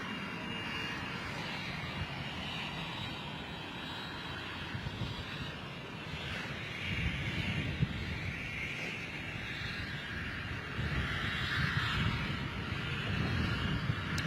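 Distant roar of a Delta Airbus A330 jet airliner from LAX near London City Airport, a steady rumble that swells gradually louder toward the end with no voices.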